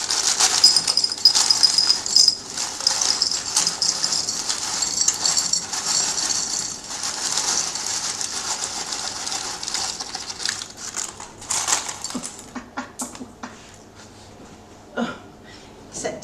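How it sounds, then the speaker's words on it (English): Dried baking beans are poured into a glass jar, a dense rattling clatter of small hard pieces that runs for several seconds, then thins into scattered clicks and taps. "So I'm going to put those back in the glass jar."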